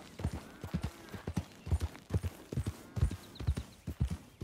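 Horse hooves clip-clop at a steady walking rhythm in Red Dead Redemption 2, the close, evenly spaced hoofbeats sounding clearly and alone.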